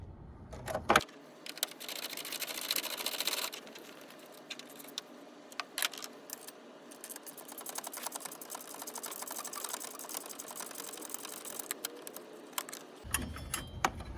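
Tools clicking and rattling on 10mm bolts as a battery bracket is removed from a 2010-2017 Chevy Equinox/GMC Terrain, with steady close metallic ticking and scraping throughout, no talking.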